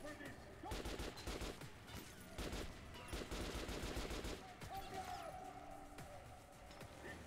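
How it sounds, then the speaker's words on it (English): Heavy gunfire from armored enemies in Metro: Last Light Redux, dense bursts of shots rattling almost continuously at close range, with a faint voice underneath. "I'm getting shot from my left."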